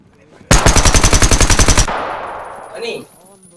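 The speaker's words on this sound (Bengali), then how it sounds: "অন্ধ গুলি মারতে হবে" A loud, rapid automatic rifle burst rips out in the Zero Hour shooter video game, firing about a dozen evenly spaced shots over roughly a second and a half before trailing off into a fading echo.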